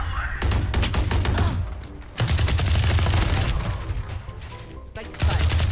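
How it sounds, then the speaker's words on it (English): The Ares light machine gun in Valorant fires long, rapid sustained bursts, loud and close, each dense stream of shots briefly broken by short pauses. "I'm gonna use the Ares. Is the Ares a shotgun? No, it's a machine gun."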